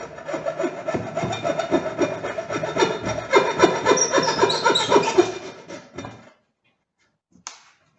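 A hand saw cuts off excess wood for a corner shelf in quick, steady back-and-forth strokes, close and rasping, then stops, followed by a brief faint knock.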